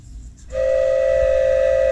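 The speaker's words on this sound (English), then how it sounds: "Goods train coming through." A goods train on the tracks sounds a long steady whistle that starts abruptly after a quiet rumble and holds loud and unbroken to the end.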